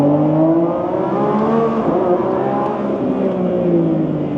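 A car set to Corsa performance mode accelerates hard, its engine roaring loud and close with a steady, rising growl that holds for several seconds.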